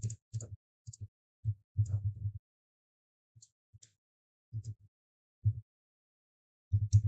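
Computer keyboard typing: irregular clusters of soft keystroke clicks with short pauses between bursts, fairly quiet and close, with no talking.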